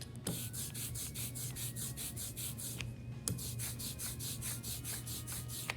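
A close, tacky squish of a brayer rolling back and forth through printing ink for a foam plate print, in a steady rhythmic pattern of repeated strokes with no talking.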